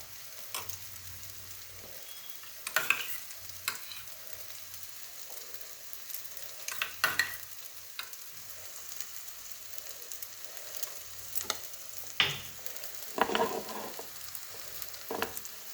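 Fried soybeans are stirred with yogurt in a pan, with a soft sizzle underneath and scattered scraping clinks of the spoon against the pan at irregular intervals, close and fairly quiet.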